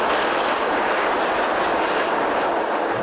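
A roller coaster train at Disneyland Paris, pulled up the chain lift by hooks under its wagons, gives off a steady, loud, continuous mechanical clatter and rumble with no voices.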